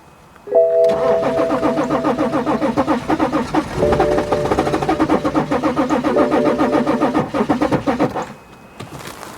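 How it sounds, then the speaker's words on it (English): A BMW X5 with a crank-no-start fault cranks for about eight seconds, a loud, close, steady rhythmic starter churn that never catches into a running engine, then stops. "So now I'm gonna crank the engine."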